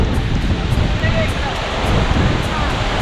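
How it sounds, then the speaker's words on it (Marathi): Dabhosa waterfall in the monsoon rushes as a loud, steady broadband roar of falling water, continuous and close, with no clear voices over it. "मित्रांनो बघताय खतरनाक असा हा वॉटरफॉल आहे इथे."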